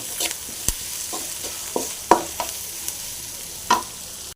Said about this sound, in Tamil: வெங்காயம் நல்லா ஃப்ரை ஆகிட்டு வருது